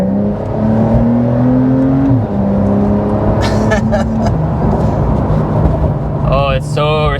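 A 2023 Porsche 911 GTS engine revs up through paddle shifts from inside the cabin. Loud rising notes break with quick gear changes, and people talk over the engine sound.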